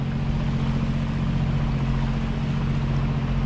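A fishing boat engine drones steadily and continuously at close range, a low rumbling hum with wash noise and no talking.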